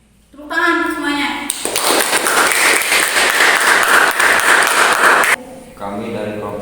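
A classroom of students breaks into energetic group clapping after a presentation, a loud burst lasting several seconds, with brief talk just before and right after.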